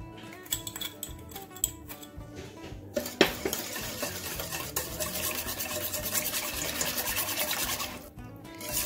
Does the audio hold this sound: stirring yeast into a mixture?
yes